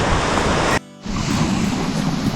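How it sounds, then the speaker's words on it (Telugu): Hebbe Falls waterfall in Chikmagalur roars as a loud, steady broadband rush of falling water, close and continuous, with a brief drop in level partway through before the full torrent returns. "What a waterfall, dude!"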